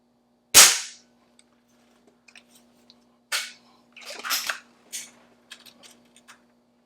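A Beeman 1020 spring air pistol fires one sharp, loud crack, followed by several quieter mechanical clacks and clicks of the spring mechanism being cocked and reloaded, all close up outdoors with no talking.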